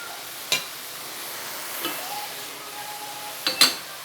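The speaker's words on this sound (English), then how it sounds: "And fluff up my quinoa." Quinoa for a vegetable stir fry is stirred and fluffed in a pan, with a soft continuous sizzle broken by a few sharp spatula scrapes and taps against the pan.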